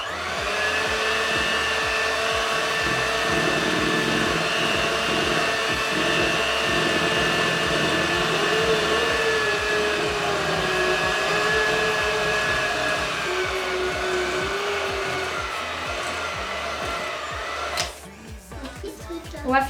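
Electric mixer beating gingerbread biscuit dough for festive cookie men, a steady continuous motor whir that runs loud and even for most of the clip, then cuts off near the end as brief handling noises follow.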